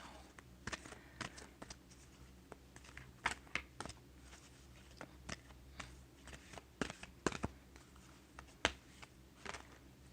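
Deck of oracle cards shuffled and cut by hand: faint, close, irregular crisp flicks and taps scattered across about ten seconds.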